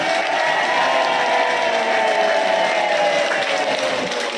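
Loud applause from an audience fills the room in a steady, continuous wash of clapping that holds throughout with no gaps.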